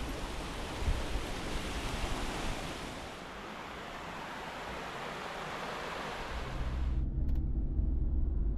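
A waterfall at Megamalai in Theni District pours with a continuous broad rushing roar, steady and fairly close, easing slightly midway before a deeper low rumble swells near the end.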